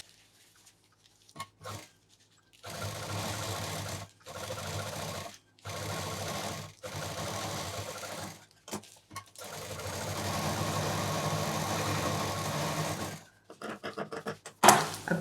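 A sewing machine stitches lace onto a party purse in several steady bursts of a few seconds each, separated by short pauses, and the last run is the longest. No one talks.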